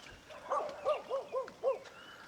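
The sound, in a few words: dogs guarding a mountain home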